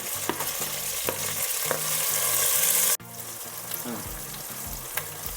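Tomatoes dropped into hot oil already flavoured with mint and bay leaf fry with a loud, steady sizzle, broken by repeated stirring clatter; the hiss dips sharply midway as the tomatoes go in, then keeps crackling.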